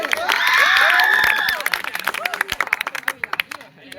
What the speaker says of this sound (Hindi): और एक बार जोरदार तालियां इनके लिए